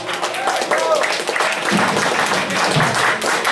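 A pub audience at the Office in Sheffield applauds a rockabilly band with a dense, steady wash of clapping that fills the whole stretch while voices carry over the top.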